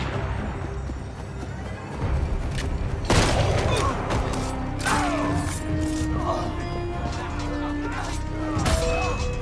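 Cannon fire in Assassin's Creed: Unity: heavy booms and crashing blasts burst out over a busy, noisy game soundscape, with a big impact near three seconds and more scattered hits after.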